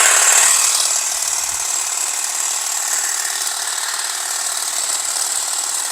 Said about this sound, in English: I've got my little Ryobi battery powered. Let's see if this is strong enough.